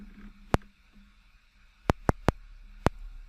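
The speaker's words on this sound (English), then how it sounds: "It's basically a click, and this is the signal I give to." Sharp synthesized clicks from a small Ableton Operator patch used as a sidechain trigger, five isolated dry ticks spaced irregularly over a faint low hum, no voices.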